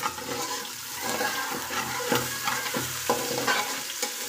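Sliced onions and cumin seeds frying in oil in a pan, a steady sizzle with scraping and stirring strokes recurring every half second or so, close up.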